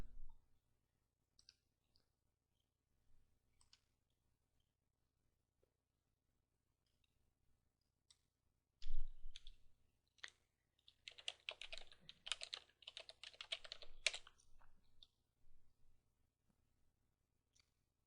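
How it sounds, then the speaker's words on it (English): Keystrokes on a computer keyboard while commands are entered in a Linux terminal: scattered faint clicks, then a denser burst of quick typing, quiet and close in an otherwise silent room. "Type in a few commands."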